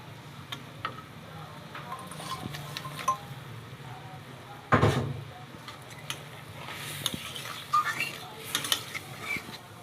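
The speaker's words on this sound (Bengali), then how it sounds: "এবার এই মাছগুলো ওর ভিতরে দিয়ে দেওয়া হবে।" Koi fish going into a cooking pan, heard as a single louder clatter midway, with softer scraping, mechanical clicks and a faint sizzle around it and a bit of speech in the room.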